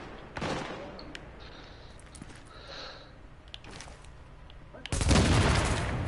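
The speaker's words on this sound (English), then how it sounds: "Shoot the grenade right in his fucking hand." Gunfire in The Division video game: a sharp burst of shots near the start, then a louder, sustained volley near the end, with quieter game noise between.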